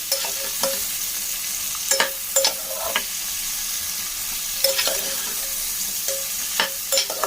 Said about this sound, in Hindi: सारी सब्जियों को इसी तरीके से हम फ्राई करेंगे